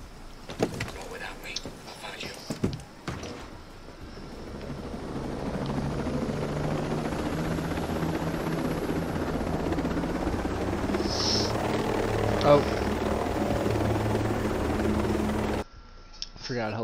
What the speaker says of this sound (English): Helicopters are ungodly loud